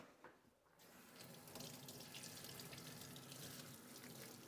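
Tap water runs steadily into a kitchen sink as shellfish are rinsed under it. The flow starts after a short pause and keeps gushing at a constant level, close and alone.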